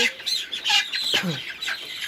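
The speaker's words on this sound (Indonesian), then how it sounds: "Nah, itu ayam kita yang nangkring" Chickens cluck and murmur on a perch, a few short clucks close by in fairly quiet surroundings.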